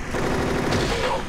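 A quick burst of gunfire in the video game Silent Hill 3, several rapid shots blending together loudly over about a second.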